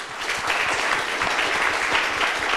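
Studio audience on a TV set in Koumassi applauding loudly and steadily, a dense continuous clapping wash close to the microphone.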